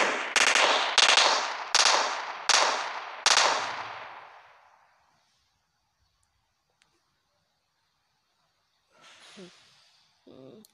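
Video game gunfire in PUBG: a rapid run of loud shots in bursts, each ringing out and decaying, then silence, followed by faint breathing-like noises near the end.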